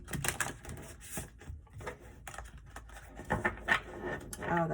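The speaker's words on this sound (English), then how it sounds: "this style of shuffling seems to work better for me" Tarot cards are shuffled by hand close up, producing irregular bursts of crisp clicks and soft slaps with brief pauses between handfuls, quiet and without talk.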